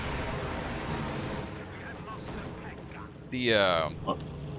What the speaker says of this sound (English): rocket strafe, no surprise there